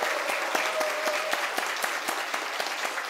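A church congregation clapping during a Sunday service, dense steady applause with sharp individual claps standing out, sustained throughout.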